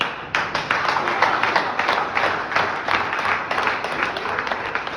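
Steady applause from an audience fills the room, many hands clapping densely and continuously at a fairly loud, even level throughout.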